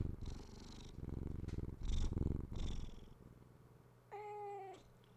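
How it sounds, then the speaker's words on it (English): A pet cat purrs at close range, a low rumbling drone broken into several breathy bursts, then a brief high meow near the end. "He's purring."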